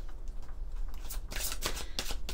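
A deck of oracle cards is shuffled close by, with soft riffling and a run of sharper, papery flicks toward the end.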